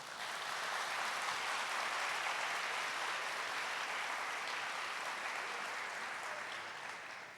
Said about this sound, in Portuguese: Agora vocês podem bater palmas.